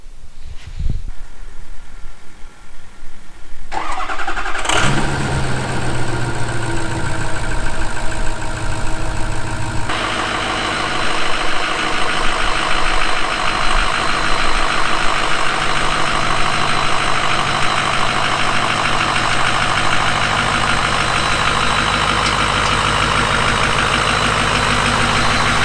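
A Ford F250 with the 6.0 Powerstroke diesel cranks and fires after a few quiet seconds, then settles into a loud, steady rattling idle that runs close and continuous to the end.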